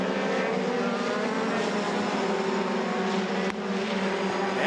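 FIA Formula 3 race cars screaming past on track at a European Championship race, a continuous loud high-revving engine roar with shifting pitch and no talk.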